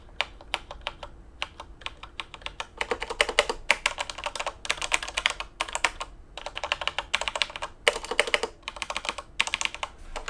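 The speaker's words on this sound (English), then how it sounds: "It is using the Cherry MX Red switches, as you can see right there, and they sound fantastic." Typing on a Corsair K63 mechanical keyboard with Cherry MX Red switches, heard from about two feet away: rapid clusters of clicky keystrokes in bursts with short pauses, fairly quiet and alone.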